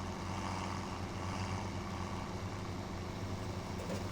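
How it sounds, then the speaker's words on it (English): Tractor engine in Farming Simulator 17 laboring uphill, a steady low droning rumble that holds constant throughout at moderate level, with no talking. "As you're going uphill or turn, you can hear the strain on the engines."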